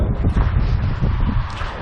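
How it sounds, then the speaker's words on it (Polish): Strong wind roars and buffets steadily up close inside an abandoned car workshop, a loud, continuous rushing with slight rises and falls. "Zamknę drzwi, żeby tutaj tak mocno wiatr nie hulał."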